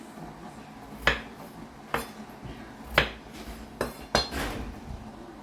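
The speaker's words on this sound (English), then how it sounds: "we're just gonna go through and we're gonna cube them up" A knife chops peeled potatoes into cubes on a cutting board, giving about five sharp, close knocks spaced roughly a second apart, with a faint clatter of kitchenware between them.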